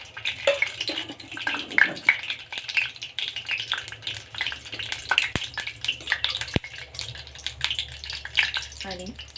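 Half a spoon each of cumin and mustard seeds crackles and spits in hot oil, a busy, continuous frying patter with occasional sharp pops and the scrape of stirring, fairly close and moderately loud.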